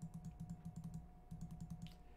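Rapid, steady mouse clicks on a PC while rerolling in Princess Connect Re:Dive, a close series of light taps with one short pause midway.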